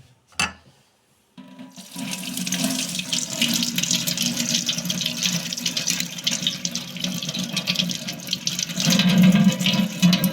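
Running tap water pours into a sink while tomatoes are washed under it, a steady close splash that starts after a brief knock and silence, growing fuller near the end.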